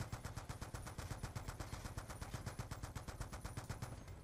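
Continuous automatic gunfire in the Black Ops 2 campaign: a steady, fast, evenly spaced stream of loud shots that runs unbroken for several seconds, with no talking over it.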